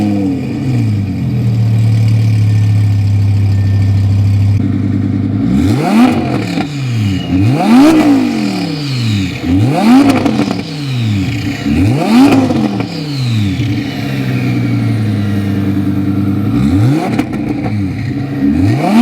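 A 2017 Audi R8 V10 Plus with a Sheepey Race Stage 1 exhaust kit idles steadily, then is revved repeatedly, with about six sharp, loud rising and falling sweeps, each crackling as it drops back down.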